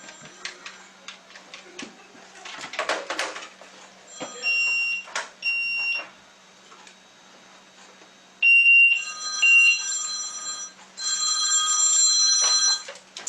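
A hospital bleep pager going off on a ward, sounding in repeated loud electronic tone bursts of a second or two, with quieter rustling and handling noise between the beeps.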